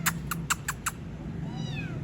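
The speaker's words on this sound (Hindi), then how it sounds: "ये भाई किसी की बिल्ली का आवाज़ गई है, बोल रही है" A cat nearby, somewhere around the wall of a shop, gives a quick run of five short, high meows, then a softer drawn-out whine, over steady background hum.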